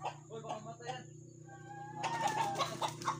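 A chicken clucks nearby in a series of short, uneven calls, then a louder, more excited burst of clucking follows, with a steady low hum underneath.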